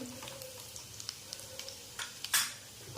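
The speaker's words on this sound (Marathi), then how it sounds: "मी जी पेस्ट केली होती लसूण आणि जिऱ्याची ती या तेलामध्ये टाकते लसूणचा कच्चेपणा जाऊपर्यंत आपल्याला ही तेलामध्ये परतून घ्यायचं आहे" Garlic and cumin paste frying in oil for thapi vadi gives a faint, steady sizzle. Occasional light taps of a spoon and a louder burst of spitting near the end rise above it, and no one speaks.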